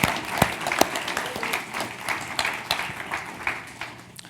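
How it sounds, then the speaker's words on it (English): Steady applause from an audience at a city manager's address, many hands clapping continuously with a few sharper claps standing out near the start. "I think he deserves another round of applause for that."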